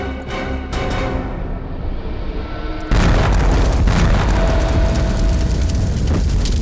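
Loud explosion blast in a crime drama, a deep sustained roar that abruptly swells into a heavier rumbling burst partway through and stays loud to the end.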